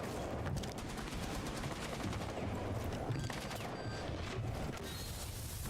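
Continuous gunfire in a video game: a dense, unbroken clatter of overlapping shots, fairly faint and distant, with no pauses and no talk.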